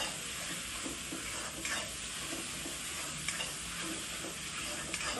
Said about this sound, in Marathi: ते वाटण आपण आधी थोडं टाकायचं आहे आणि ते फ्राय करून घ्यायचं आहे.